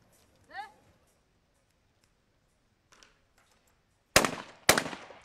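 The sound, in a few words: shotgun fired in skeet shooting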